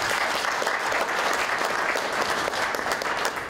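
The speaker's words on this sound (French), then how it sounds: "je vous demande de les applaudir" A crowd claps steadily at a forum closing speech in Bamako, dense applause filling the whole stretch without letting up.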